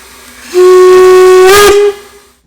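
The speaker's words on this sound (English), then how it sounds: "He just gave another loud blast on the whistle" A loud steam locomotive whistle gives one sustained, powerful blast of a little over a second with a bright harmonic tone and a hissy finish, alone and without talk.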